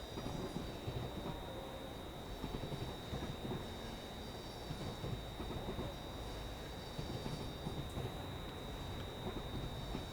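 A Class 66 diesel locomotive rolls past on a simulated West Coast Main Line near Lichfield Trent Valley, a steady low rumble and rail clatter with a faint high whine sustained throughout, moderately distant.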